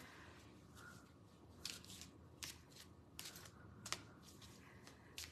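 A deck of animal oracle cards is shuffled in soft, quiet riffles and flicks, with several sharper crisp bursts spaced irregularly against low room hiss.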